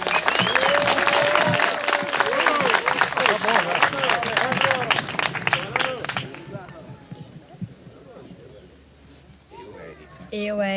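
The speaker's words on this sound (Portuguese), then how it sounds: "Pode aplaudir." Wedding guests break into dense, close applause at an outdoor ceremony on a farm venue, lasting about six seconds before fading into a quieter stretch with murmuring voices and faint birdsong.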